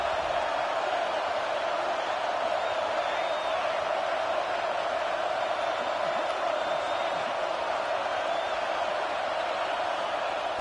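Stadium crowd at a football game, a sustained, distant roar of thousands of fans with scattered whoops, steady and unbroken across the whole stretch.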